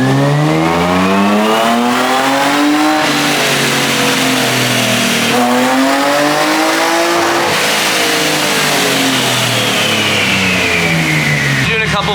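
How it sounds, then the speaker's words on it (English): An ITB-swapped BMW S52 engine in an E30 revs hard on a dyno, with loud, raspy pulls that rise and fall through several sweeps and a steady drone beneath, close and continuous throughout. "So time to hear some raspy ass BMW noises."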